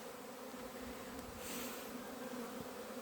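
Bees hum in a steady, dense drone at an apiary in April after prolonged rains, a close continuous buzzing from many insects with no talking.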